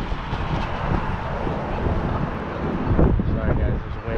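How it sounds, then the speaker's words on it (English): Wind buffeting a handheld microphone outdoors in Boston as rain starts, a loud continuous low rumble with gusts swelling near the end. "Sorry guys, it's wind."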